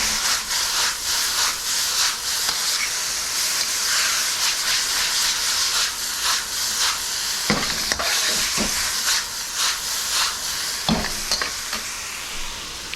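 Pork and other ingredients stir-fried in a hot wok with sauce for Sichuan fish fragrant pork: continuous sizzling hiss broken by repeated scraping and clanking strokes of a spatula, close and loud.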